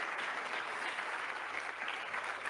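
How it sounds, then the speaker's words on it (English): Steady applause from an audience, a dense wash of clapping that holds at an even level throughout. "I think that deserves a round of applause."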